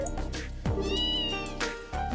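A cat in the video game Trails in the Sky gives a couple of clear, drawn-out meows over steady background game music.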